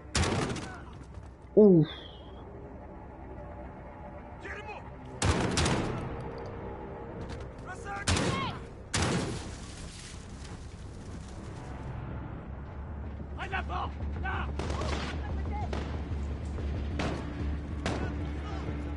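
Origin 12 shotgun shots from Call of Duty Modern Warfare ring out as a few loud, separate booming blasts with long pauses between them over a low background rumble, and a man briefly exhales a word.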